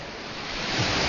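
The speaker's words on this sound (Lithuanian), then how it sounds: "Mūsų valtį neša. Bangos didesnės ateina" Sea waves carry a small boat, heard as a broad rushing wash of water that swells louder toward the end, close and unbroken.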